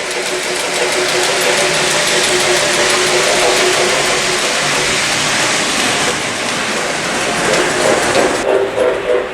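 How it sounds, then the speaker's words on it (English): A Reading tank engine steam locomotive chuffs steadily and rapidly, one chuff per revolution, loud and close, over a constant mechanical roar. "You can hear that 1 chuff per revolution."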